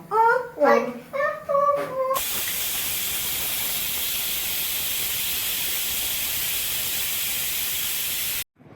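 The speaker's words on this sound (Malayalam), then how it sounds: "ഇത് നമ്മുടെ കുക്കറിലെ ആവിയെല്ലാം ഫുള്ളായിട്ട് പോയിട്ടുണ്ട്" A voice speaks briefly, then a loud, steady steam hiss blasts from a pressure cooker for several seconds before cutting off abruptly.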